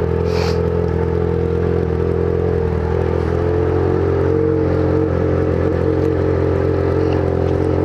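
Loud, steady engine drone of motorcycles, including a Yamaha XJ6, idling and revving together, close by, with a rattling clatter running through it and no voices.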